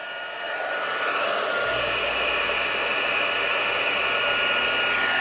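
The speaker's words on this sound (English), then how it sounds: "I'm going to turn my heat tool on really quick and let it warm up" An embossing heat gun warming up for papercraft stamping, a steady loud broadband whoosh of blowing hot air that starts in the first second and runs continuously without voices.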